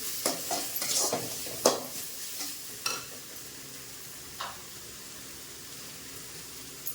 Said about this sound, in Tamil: ஒரே ஒரு தக்காளி தேவைக்கேற்ப உப்பு போட்டு வதக்கி விடலாம்